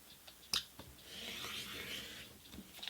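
A rotary blade slices through a fabric square along a 10-inch quilting slicer template, a soft, faint rasping drag lasting a couple of seconds after a few small taps and clicks.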